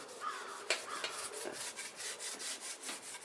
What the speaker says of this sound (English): I'm really not even putting much pressure into this. So this product is kind of doing its own work. I'm just rubbing it gently.